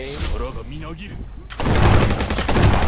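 Gunfire in the browser shooter Venge.io, with a sniper rifle in play: after a moment of a player talking, loud, dense shots burst in abruptly and keep cracking rapidly to the end.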